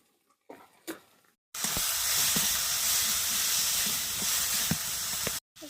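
Spice paste of mustard, turmeric, cumin and chili powder with salt sizzles loudly in hot oil in a pan, a steady close hiss after a few soft knocks, then stopping abruptly.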